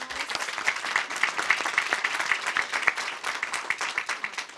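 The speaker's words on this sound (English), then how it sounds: "let's give another round of applause to all of our panelists" A crowd applauds panelists at a congressional briefing, dense clapping sustained throughout at a fairly even level.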